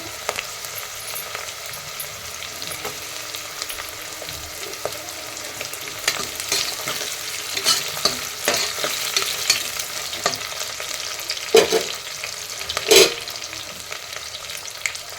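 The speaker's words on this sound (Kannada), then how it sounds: "ಈಗ ಆಲೂಗಡ್ಡೆ ಹಾಕ್ತಾಯಿದ್ದೀನಿ" Soft frying sizzle of potatoes with intermittent spoon scrapes and stirring clatter, a couple of sharper knocks near the end, close by.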